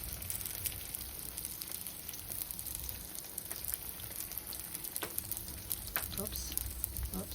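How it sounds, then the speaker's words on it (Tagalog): Lumpia spring rolls fry in hot oil with a steady, fairly faint sizzle and scattered pops and crackles throughout, continuous rather than rhythmic. "magprito po tayo ng lumpia guys."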